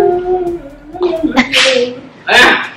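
A person speaks briefly, then a dog lets out one short, sharp sneeze close by.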